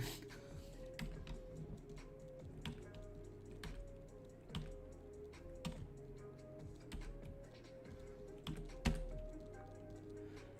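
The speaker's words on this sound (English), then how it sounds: "I like how clacky my keyboard is." Fast, irregular clacking of keys on a clacky computer keyboard, with sharp individual clicks over a faint low background hum, close and fairly quiet.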